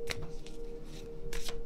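Tarot cards are shuffled by hand in a quiet room on a calm morning, giving a few quick riffling bursts with short pauses between them and no talking.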